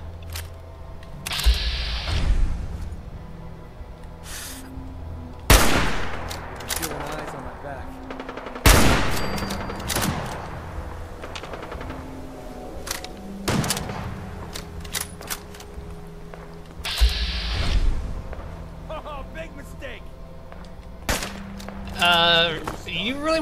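Pipe weapons fire in a Fallout 4 firefight, with sharp gunshots and short bursts scattered irregularly through the scene, some loud and close, others more distant, over ambient game sounds.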